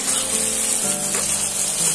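Spices with ginger and garlic sauté in a pan for a Bengali rohu fish curry, giving a dense, loud, unbroken sizzle up close with faint stirring underneath.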